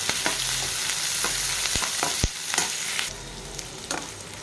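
Cumin seeds and onions sizzle steadily in a hot pan, a dense close frying hiss broken by sharp clinks and scrapes of stirring, with no voices.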